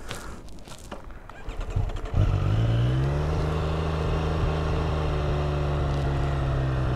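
A 2022 Triumph Street Triple RS engine pulls steadily while riding, starting with wind rumble before settling into a loud, sustained engine drone that holds a constant pitch to the end.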